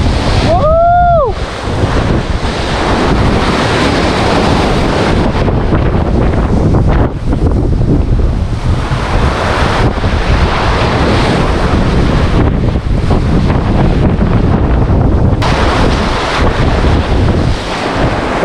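Heavy ocean surf churns in strong monsoon wind, a loud, continuous roar of wind buffeting the microphone over crashing waves, with a brief shout near the start.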